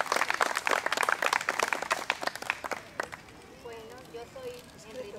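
Audience applause at a tai chi closing ceremony, dense clapping from a room full of people that thins out and fades after a few seconds as a voice begins speaking.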